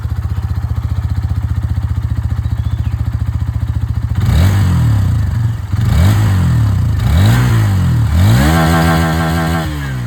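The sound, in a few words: Hero Xtreme 160R 4V motorcycle engine revving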